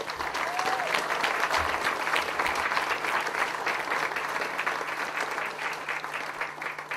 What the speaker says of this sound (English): I'd like us all to give Francois a round of applause and a cheer